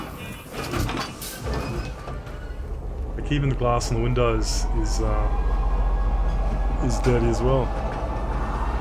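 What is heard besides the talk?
train arriving at station in Star Citizen video game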